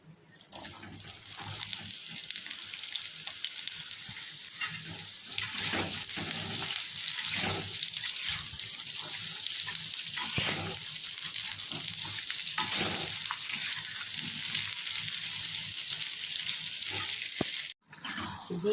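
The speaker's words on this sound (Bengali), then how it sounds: "ঝিঙে আলু পোস্ত রেডি আর একটু শুকাবে সর্ষের তেলও দিয়ে দিয়েছি ওপর থেকে" Ridge gourd and potato with poppy seeds cooking in mustard oil in a pan, giving a steady close sizzle and frying crackle that runs throughout, with a brief knock near the end.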